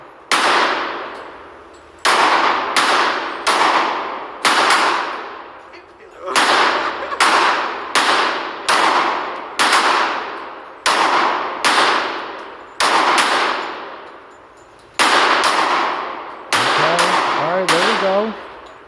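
Loud gunshots at an outdoor shooting range, a series of sharp, close reports fired in uneven bursts with ringing decays, and a voice briefly speaking near the end.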